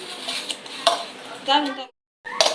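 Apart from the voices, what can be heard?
mashing pav bhaji vegetables with a glass in a bowl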